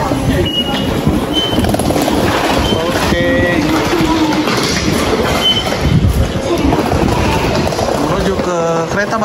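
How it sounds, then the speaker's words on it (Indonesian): Airport train bound for Seoul Station arriving, with loud continuous rumbling, clattering wheels and squealing brakes, and voices talking over it. "Kereta bandara ke Seoul Station."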